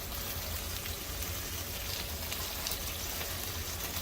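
Hamburger patties sizzle in a frying pan with a steady, dense crackle and hiss that stays even throughout, with no voices.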